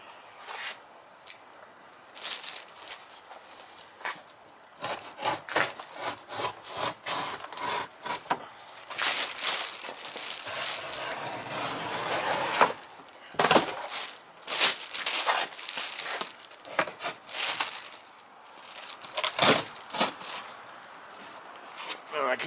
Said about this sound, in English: I'm going to cut this box apart.